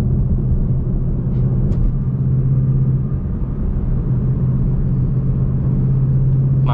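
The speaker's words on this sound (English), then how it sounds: "I'm gonna do a little third gear pull." A car pulls in third gear at about 55 mph, with a steady low engine rumble and road noise that build gently, heard from inside the cabin with no talking.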